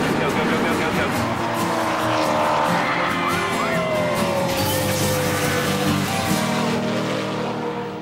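Stock cars roaring around the track at the 2009 Coca-Cola 600 NASCAR race, a loud continuous engine drone with rising and falling pitch as cars pass, with a voice speaking over it.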